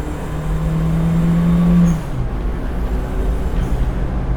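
A classic Mini Cooper fitted with a JET turbo kit accelerates hard, its engine drone rising in pitch for about two seconds before dropping off as the tires spin, loud and close, then a lower rumble continues.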